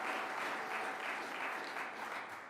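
A crowd in Western New York gives sustained applause for Congressman Brian Higgins, a steady, fairly full wash of clapping throughout that tapers slightly at the end.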